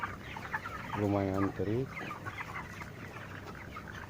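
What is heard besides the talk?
broiler chickens clucking in a poultry house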